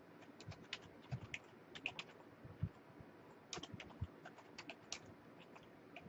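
Keys clacking at a steady irregular pace as a program is typed on a Commodore 64 keyboard, close and quiet with no talking.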